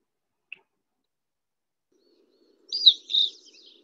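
Type two red crossbill call, the Sierra type, recorded in the wild: a faint click, then two short, fairly loud high chirps close together, with no other sound.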